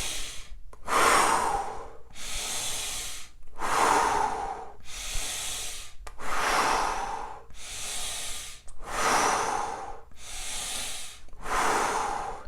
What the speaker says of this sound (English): you're doing 30 of those big deep breaths in your nose and out through your mouth